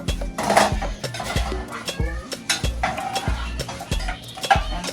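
Shrimp stirred and checked in a cooking pan, a rapid run of close metallic clicks and scrapes of utensil against pan, irregular and fairly loud, over a low background hum.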